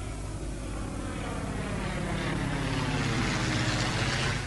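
An airplane in flight gives a steady, even, broadband engine and air roar that holds at a constant level throughout, with no voices.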